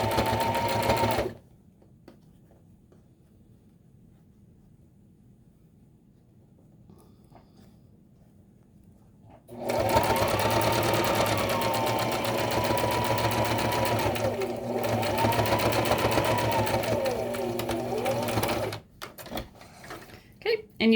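A sewing machine stitches binding onto the top and bottom of a quilt in two close, loud runs of rapid mechanical whirring, separated by a quieter pause while fabric is adjusted, with a few clicks at the end.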